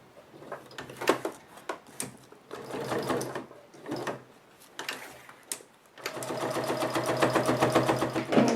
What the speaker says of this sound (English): Now we're sewing our second piece of Velcro